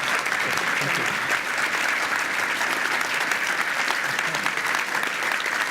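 A conference audience at the Disrupted 2018 event applauds the keynote speaker, an orthopaedic surgeon, in sustained, evenly dense clapping from a large crowd that fills the hall for several seconds.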